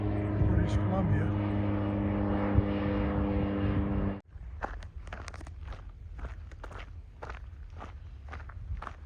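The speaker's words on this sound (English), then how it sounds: "Float plane, somebody going to Canada, British Columbia." A float plane passes overhead with a steady propeller drone for about four seconds before it cuts off, followed by footsteps on a hiking trail and voices.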